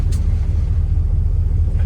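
A green truck with a transmission that shifts on its own drives along, giving a steady, loud, low engine and road rumble heard up close with no voices.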